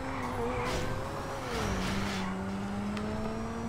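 A car engine revs steadily in the GTA 5 video game, a droning tone rising and dipping in pitch as the engine holds high revs, with a faint whoosh of road noise and no talk.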